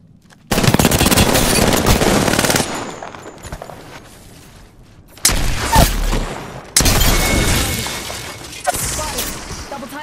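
Loud gunfire in the Apex Legends video game on Xbox One: dense automatic bursts, a pause, then renewed heavy firing with cracks and impacts, close and harsh.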